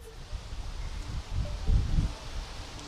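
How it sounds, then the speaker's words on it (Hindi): Strong wind and rain in Goa during Cyclone Tauktae roar steadily, with low gusts buffeting the microphone over a constant broadband hiss; no one speaks. "इस वक्त भी तेज हवाएं और बारिश जो है उसका सिलसिला गोवा में इस वक्त भी शुरू है।"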